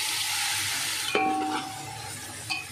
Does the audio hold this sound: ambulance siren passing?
no